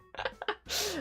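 A single close sneeze from a woman on a livestream, a few short quick inhaling breaths building up before one sharp, loud burst.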